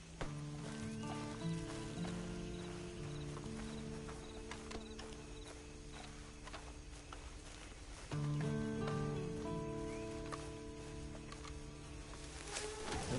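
Horse hooves clip-clop steadily in a Red Dead western video game, a continuous rhythmic trot mixed with game music and ambient noise, with no speech.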